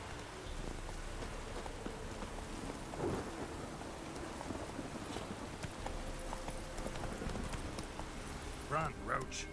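Roach, the horse in The Witcher 3, trots through a rainstorm with steady hoof clip-clops under falling rain and distant rumbles of thunder, moderately close, while a voice talks over it.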